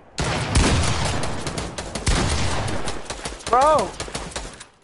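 Shotgun blasts in a video game fire as loud bursts at a rapid, uneven pace, mixed with shouting voices of players talking over the shots.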